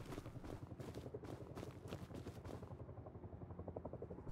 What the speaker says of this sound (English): Oh, I hear a chopper.